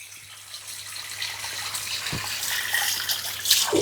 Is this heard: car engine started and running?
no